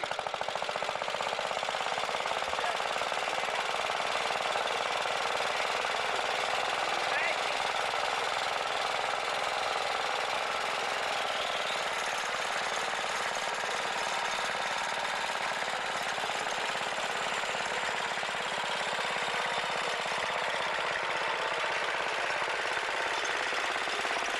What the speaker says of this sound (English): Has an igniter here instead of a spark plug, and every time the governor calls for added speed, why it opens a set of points in here